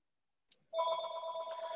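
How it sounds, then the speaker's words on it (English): An office desk telephone rings with a steady electronic trill, loud and close, starting after a brief click and continuing alone without talk. "I forgot to turn off my office phone."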